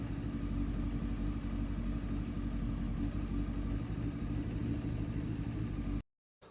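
A Honda CBR900RR Fireblade superbike engine runs steadily from a cold start, a loud, dense low rumble holding constant for about six seconds before cutting off abruptly.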